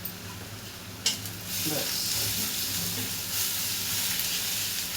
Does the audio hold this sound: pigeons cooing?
no